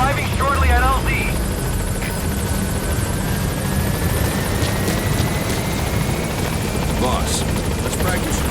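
Pequod helicopter from Metal Gear Solid 5 arriving at the landing zone, a steady rotor drone and engine roar running loud through the whole stretch, with brief radio chatter over it.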